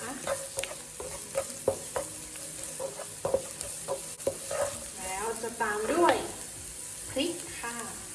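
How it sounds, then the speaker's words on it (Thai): Garlic, spring onion and coriander root are stir-fried in a wok for fried streaky pork with dried chili and salt. Close sizzling runs under repeated spatula scrapes and clinks, and a voice is heard talking in the later part. "ใส่กระเทียมลงไปผัดแล้วก็จะใส่ ต้นหอมและรากผักชีลงไปค่ะ ผัดอีกเล็กน้อยนะคะ"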